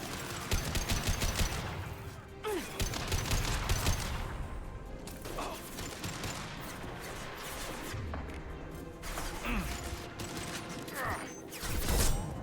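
Rapid gunfire and mechanical clatter from a Mass Effect 2 Legendary Edition firefight on PC, with sniper rifle shots among dense combat noise, heard loud and continuous through the whole stretch.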